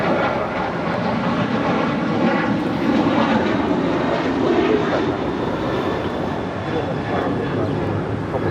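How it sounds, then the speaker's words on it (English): An American Airlines Boeing 737-800 jet departs Los Angeles International Airport, its engines a steady, loud broadband roar that holds evenly throughout with no clear rise or fade. "This is American Airlines 2885 departing to Nashville on a 737-800."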